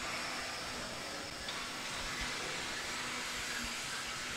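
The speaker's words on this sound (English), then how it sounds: "This machine is cutting." An industrial machine cutting square steel gives a continuous loud broadband hiss and whine with a faint steady tone underneath, unbroken and with no talking.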